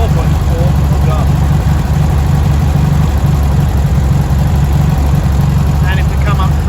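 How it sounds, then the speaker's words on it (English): A 1971 Volkswagen Karmann Ghia that sat unused for over 20 years idles steadily with a low, constant engine rumble, while people talk over it nearby. "We've got it idling a little better than it was before."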